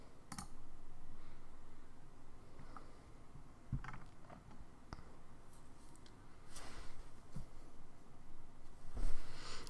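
Computer mouse clicks at a desk during software setup work, a scattering of faint, sharp clicks at irregular intervals over quiet room noise.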